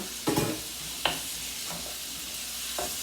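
Food sautés in a pan as a steady sizzle, broken by a few scraping stirs of a utensil against the pan.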